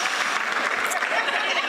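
Steady, full applause from an audience celebrating graduating nursing students in Barbados, dense continuous clapping held at an even level throughout.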